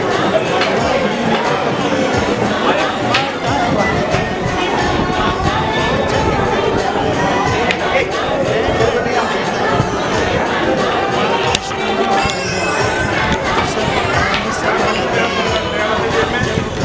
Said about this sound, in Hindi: बहुत भीड़ रखी है वैष्णो देवी में।